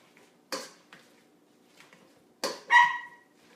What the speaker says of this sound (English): As you can hear, the dogs are in the house, Frida and Stout.